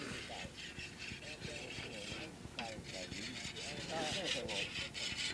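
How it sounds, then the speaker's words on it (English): A hone is struck along a grain cradle's cutting blade during an oat harvest, giving rhythmic rasping strokes repeated many times. Someone narrates over the scraping. "There's Arnold Solberg sharpening his blade now."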